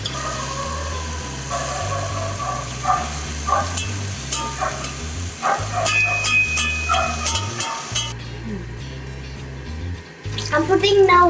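Water runs steadily into a pot under a constant low hum, with clinks and splashy shifts over the stream.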